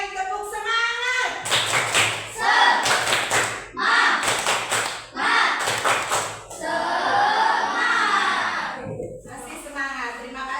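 Schoolchildren in an Indonesian classroom perform a rhythmic spirit clap, with bursts of patterned clapping mixed with chanted voices, fairly close and lively, with a teacher's voice around them.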